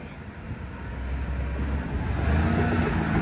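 A 2014–2018 Chevrolet Silverado crawling off-road in 4 low on light throttle, its engine a low steady rumble that swells slightly louder and rougher as it pulls, close and without talk.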